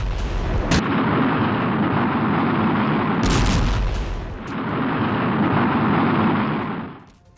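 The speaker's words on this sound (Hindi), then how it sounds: "नहारिया और एकर शहर में ताबड़तोड़ बमबारी।" Heavy bombardment strikes the cities of Nahariya and Acre: a loud, sustained roaring rumble with sharp blast onsets near the start and midway, swelling again before fading out, with no speech.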